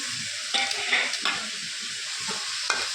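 Tomato goes into a pan of frying vegetable chow mein, setting off a steady close sizzle with stirring scrapes and a few brighter spatters, and no voices.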